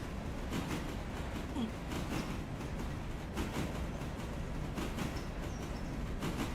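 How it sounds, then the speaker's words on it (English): A train sounds in the distance near a railroad, a faint, low, continuous rolling rumble with soft rhythmic clacking pulses and no talk. "Ooh, I hear a train."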